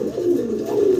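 A single pigeon at a farm selling fancy pigeons gives a close, loud, rolling coo that swells and holds for about a second.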